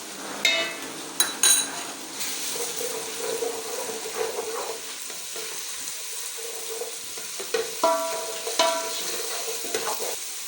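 Garlic paste, about a tablespoon, added to browned onions in a pan, sizzling and frying with intermittent stirring and spoon clatters against the pan, close by, with no talking.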